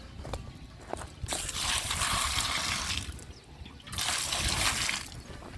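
Water gushes from a village hand pump in two strong bursts, each a loud rushing splash lasting a couple of seconds, with softer trickling and a few knocks in between.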